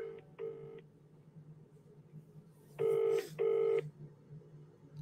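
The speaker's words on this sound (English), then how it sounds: "Come on, answer the phone." Telephone keypad dialing tones: two short beeps, a pause, then two louder beeps close together, over a faint background murmur.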